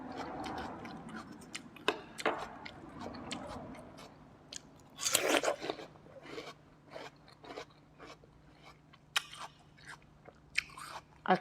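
Chilled, crunchy snow lotus is bitten and chewed close up, giving sharp, crisp crunches at irregular intervals, with one dense burst of crunching in the middle and quiet pauses between bites.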